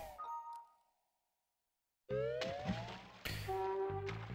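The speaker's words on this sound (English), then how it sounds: "So I'm assuming that those chimes are getting picked up by the encoder" Chimes from Open Broadcast Software picked up by a stream encoder: a short tone fading out, a second of silence, then a rising chime and bright electronic ding-like tones, fairly quiet overall.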